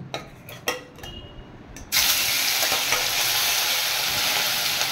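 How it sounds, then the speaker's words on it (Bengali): Mustard oil heats in a wok, then sardine fish drop in and a loud, dense sizzle bursts out and holds steady, after a few scattered clicks and taps of preparation. "এদিকে কড়াই গরম হয়ে গেছে, এবার দিয়ে দিচ্ছি সর্ষে তেল। এবার আমি মাছগুলো ভেজে নেব।"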